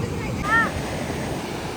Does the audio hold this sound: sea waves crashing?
yes